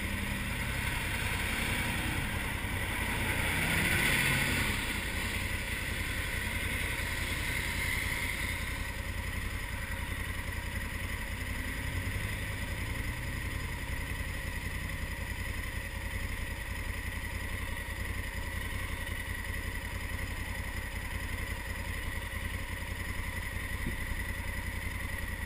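A Honda Africa Twin motorcycle idling in off-road mode gives a steady low rumble throughout, continuous and close, with no voices.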